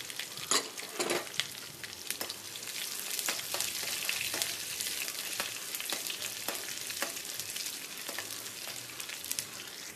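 Onion and mustard seeds fry in hot oil for a taro curry, giving a continuous close sizzle dotted with crisp pops and crackles throughout.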